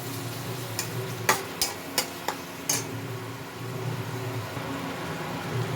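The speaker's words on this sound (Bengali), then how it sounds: "মশলাটা ভালো মতো কষিয়ে নিতে হবে।" Masala for chicken kosha being sautéed and stirred in a pan, with a low steady sizzle underneath and a handful of sharp spoon scrapes and clinks against the pan early on.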